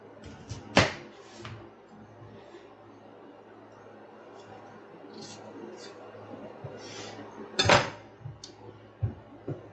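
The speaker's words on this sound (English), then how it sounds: "I'm just going to cut my onions here." Onions are cut with a knife on a cutting board, giving a few sharp, scattered knocks at irregular intervals with quieter handling noise between them.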